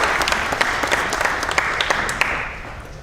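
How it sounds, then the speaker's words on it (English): An audience at a press conference applauds steadily, a dense patter of many hands clapping close by, tapering slightly toward the end. "Everybody give yourselves a round of applause"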